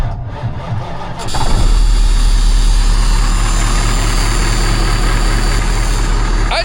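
A 3408 Marmon truck cranks briefly, then its big diesel catches and settles into a loud, steady, rumbling idle that continues unbroken to the end.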